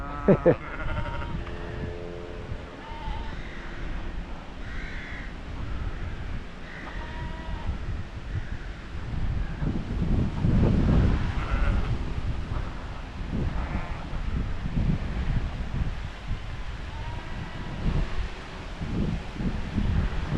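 Sheep bleat now and then against steady wind noise outdoors, the calls moderately near and mixed with rustling.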